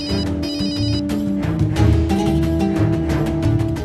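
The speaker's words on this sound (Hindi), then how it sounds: "वरुण का फोन।" A mobile phone rings with a loud, steady ringtone melody that plays continuously and alone, with no voices over it.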